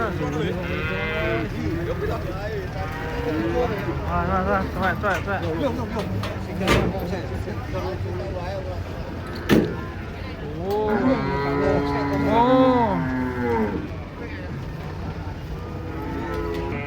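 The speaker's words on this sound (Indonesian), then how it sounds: "Sapi yang limusin panjang. Sapi dawa." Several Limousin cattle moo repeatedly as they come off a truck, long low calls overlapping one another, with people talking and a clatter partway through.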